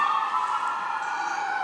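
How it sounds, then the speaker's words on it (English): Emergency vehicle sirens outside a downtown studio, a steady wailing tone held throughout, fairly loud and unbroken, with no talking over it. "sirens are going off right now"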